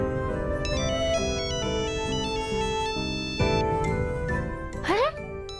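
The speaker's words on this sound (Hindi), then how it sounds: "अरे बैसा का फोन" A phone ringtone plays a bright, stepping melody of electronic tones, fairly loud, ending with a quick rising chirp.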